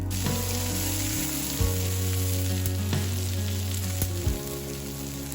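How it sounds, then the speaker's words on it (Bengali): Sesame-coated kebabs frying sesame side down in oil on a hot tawa, a loud, continuous close sizzle with a few sharper pops, over soft background music. "তাওয়াটা গরম করে নিয়ে তিলের সাইডটা তেলের মধ্যে দিয়ে দিলাম"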